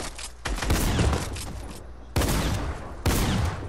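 Repeated gunfire in Fortnite Creative, a 3v3v3v3 match: loud, close bursts of rapid shots with brief gaps between volleys.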